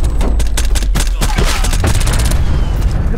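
Loud, close sniper rifle shots in a video game, several sharp reports in quick succession at the start, then a dense burst of rapid fire over continuous rumbling game noise.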